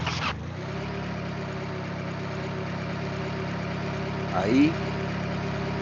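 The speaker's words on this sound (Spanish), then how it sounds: "Voy a poner el auto en marcha." A car engine catches after a brief crank and settles into a steady, close idle, with a short voice briefly rising over it near the end.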